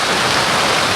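Steady rain falls around a small house in the Philippines, a dense, even hiss that runs unbroken and fairly loud throughout, with no voices.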